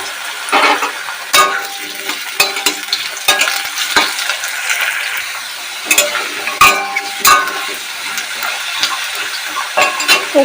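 Cut potatoes fry in a pan after bay leaves go in. There is a loud close sizzle and hiss, broken by repeated stirring scrapes and clacks of a utensil.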